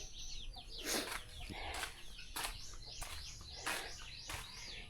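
Fighting cocks kept at a house in Iloilo call and cluck in several short bursts, some crowing-like, at moderate distance amid quiet outdoor background.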